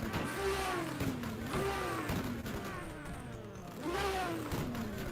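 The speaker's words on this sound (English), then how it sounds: "People want the race car noises." Video game race car engines rev up and down in repeated sweeping whines, rising and falling pitch in waves, moderately loud with a rumbling low end.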